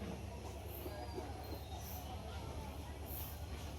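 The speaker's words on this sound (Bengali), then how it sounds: "তখন ট্রেনটা যাইব গিয়া" Train passing at a station, a low continuous rumble and rolling clatter with faint high squeals from the wheels, heard at moderate distance with steady background noise.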